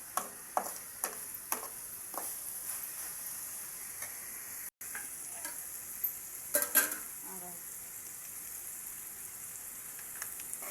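Sesame curry cooking slowly in oil over low heat, a faint, steady sizzle with scattered soft ticks and light stirring taps, no talking.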